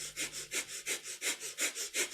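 Rapid breath of fire during kundalini yoga, quick forceful nasal exhales pumping about five times a second, close and even, with no talking.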